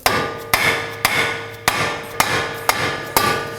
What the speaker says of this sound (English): Now I'm going to use a dead blow hammer here. Just go ahead and knock this back together.